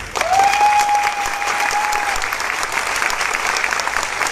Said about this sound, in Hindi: तो आप अपनी ताली की गड़गड़ाहट बताएंगे तभी हम उनको इन्वाइट करेंगे।